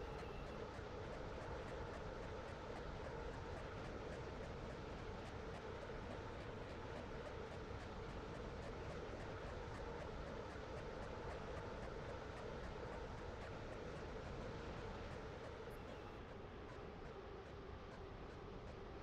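Train running on the Stepford Connect line in the Roblox game Stepford County Railway, a steady continuous rumble and hum of the moving carriage that stays even throughout.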